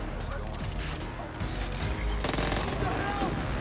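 Gunfire from a weapon in the video game Far Cry New Dawn, dense overlapping shots in rapid bursts amid game noise, growing louder in the second half, with someone talking over it.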